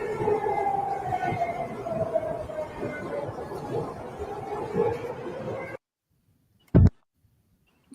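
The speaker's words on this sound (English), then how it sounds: "This is the sound of the alarm." Alarm siren sounding in the UK, a wailing tone rising and falling over a busy background of crowd chatter, which cuts off abruptly and is followed by a single short thump.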